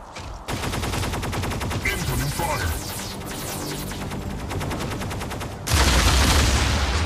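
Mech weapons in the mobile game Mech Arena fire in rapid repeated bursts, a dense stream of gunfire shots layered over a hum, ending in a louder blast near the end.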